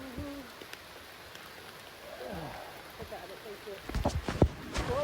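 Light rain hisses steadily in the background at Clifty Falls State Park while a person talks quietly over it, a few nearby taps and rustles toward the end.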